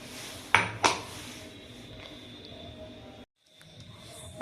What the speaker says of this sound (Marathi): आता आपण ती एका बाउलमध्ये काढून घेऊ।